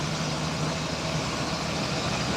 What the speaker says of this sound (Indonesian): Walaupun sudah tua truknya, tapi tenaganya masih dalam perhitungan ya guys.